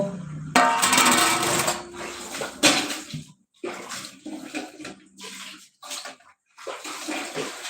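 Water pours and splashes into a container in several loud bursts separated by short pauses, close by, with no talking.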